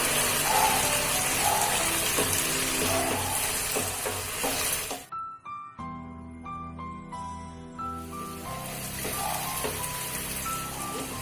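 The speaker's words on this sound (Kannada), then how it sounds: "ಈಗ ಈ ಥರ ಫ್ರೈ ಆಗ್ತಿದೆ" Capsicum rice vegetables with turmeric fry in a pan, giving a steady hiss and sizzle with light stirring. A stretch of tonal background music briefly replaces the sizzle midway before the frying returns.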